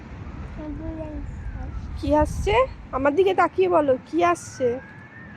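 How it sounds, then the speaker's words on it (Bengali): An ambulance siren passes near the Seine in Paris, a faint wavering tone far in the background while an adult and someone talk loudly over it. "অ্যাম্বুলেন্স আসছে?"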